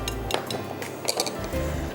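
Bohri dessert mixture spooned out of a pan into a dish: quick metallic clinks and scrapes of a spoon against cookware, close and fairly quiet, over a low hum.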